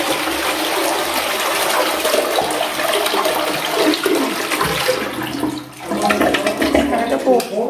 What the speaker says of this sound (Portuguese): Vamos ver essa descarga.